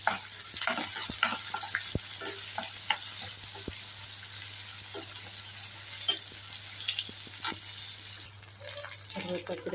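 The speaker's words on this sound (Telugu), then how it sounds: "ఉల్లిపాయలు వేగుతున్నాయి" Sliced onions fry in a pan with a steady hiss, broken by scattered clicks and scrapes of stirring, over a faint low hum.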